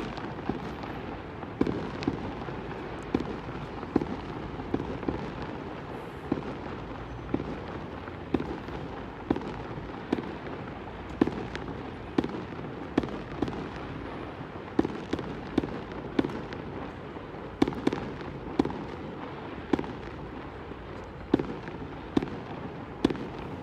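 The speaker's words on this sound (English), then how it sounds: "Oh, we got more fireworks." Repeated New Year's fireworks bursts crackle and boom at irregular intervals over a steady rumbling background in San Francisco, some near and sharp, others distant and muffled.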